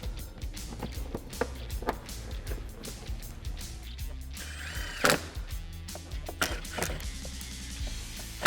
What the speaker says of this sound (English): Reinstall your factory T40 Torx screws.